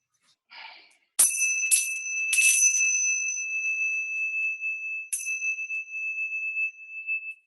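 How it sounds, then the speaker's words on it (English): Tibetan bells made of seven metals are struck several times, each strike a bright ringing tone that sustains and decays slowly, with a faint breathy sound just before the first strike. "These are Tibetan bells."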